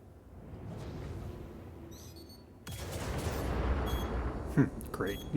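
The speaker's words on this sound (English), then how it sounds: "we'll go down and send a few missiles his way." Missiles launching in Star Citizen during a bounty mission, a low rumbling roar that bursts in partway and rolls on loudly, with a voice talking over the blasts.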